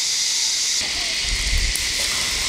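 Tofu coated in beaten egg frying in hot oil gives a steady broad hiss throughout, with a faint low rumble rising midway and no talk over it.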